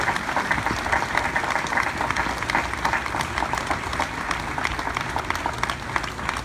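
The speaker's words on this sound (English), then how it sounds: "Let's give Teresa a round of applause" A crowd applauds steadily at a navy submarine force change of command ceremony, dense clapping that stays loud and even from start to finish with no pauses.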